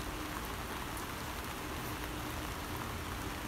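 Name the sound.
heavy rain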